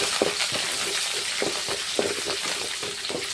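Mustard seeds, garlic and curry leaves fry in hot oil for a chutney, giving a steady close sizzle dotted with quick pops and crackles.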